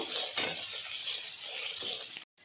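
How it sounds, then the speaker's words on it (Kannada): Okra pieces frying in hot oil give a steady, dense sizzle that stays loud and continuous, with a few soft stirring scrapes, then cut off abruptly near the end. "ಈಗ ಅದೇ ಎಣ್ಣೆಗೆ ಹಾಕ್ತಾ ಇದ್ದೀನಿ ಬೆಂಡೆಕಾಯಿನ ಇದನ್ನು ಚೆನ್ನಾಗಿ ಕೆಂಪಗಾಗೋವರೆಗೂ ಫ್ರೈ ಮಾಡ್ಕೋಬೇಕು"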